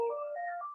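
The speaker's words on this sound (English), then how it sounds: "Can't stop a phone from going." Phone ringtone going off during a lecture, a short melodic electronic tune of a few stepped tones that plays clearly and alone for under a second.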